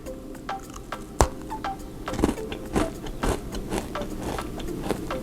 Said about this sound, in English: Wow, you hear how crunchy that was? That is a really crunchy cookie